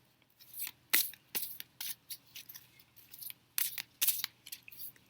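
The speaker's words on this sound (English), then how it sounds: "These are also hard cards to shuffle" Large, stiff tarot cards being shuffled by hand, giving a series of brisk riffling and snapping bursts in an uneven rhythm, close and fairly quiet with no talking.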